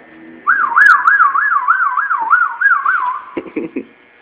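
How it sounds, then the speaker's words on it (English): A fire truck's loud wailing siren rises and falls rapidly in a steady yelp pattern for about three seconds, then cuts off with a few clunks. "Turn the wheel, and we turn the siren on."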